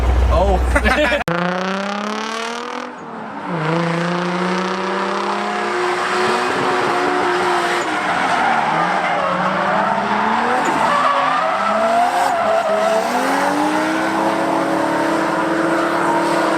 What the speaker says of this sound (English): did you see him skid?